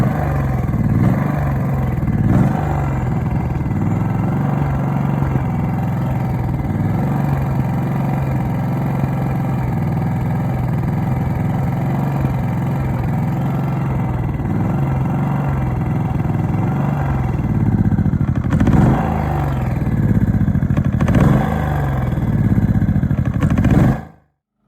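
A Wen 3800 inverter generator running rough under a heavy load of about 1,800 watts. Its engine churns steadily and loudly, with an uneven, surging mid-pitched hum and a few louder swells before it cuts off abruptly at the end.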